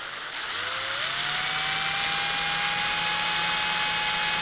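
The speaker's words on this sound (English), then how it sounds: "I'm going to drill through the plastic at that point and into the foam underneath." A power drill bores through plastic into the foam underneath while building drone rotors, its motor rising in pitch and then holding a steady, loud whine throughout with no talk.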